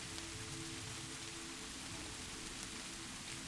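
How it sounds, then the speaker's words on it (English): Steady rain falls on a surface, a soft, even patter of drops that runs unbroken at a low level, with no thunder or voices. "The rain continues"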